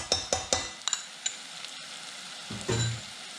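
Garlic sautéing in a pan for red lentil soup, a few sharp stirring clinks at first, then a quiet, soft sizzle, close and without talking.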